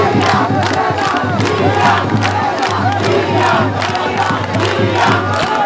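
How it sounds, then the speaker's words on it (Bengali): A large crowd roars and cheers at a political rally in Bhola as a big procession from Ward 5 arrives, the dense, loud mass of voices sustained without pause throughout. "সংগ্রামী 5 নম্বর ওয়ার্ড থেকে একটা বিশাল মিছিল আমাদের মাঝে উপস্থিত হয়েছে। করতালির মাধ্যমে তাদেরকে স্বাগত জানাই।"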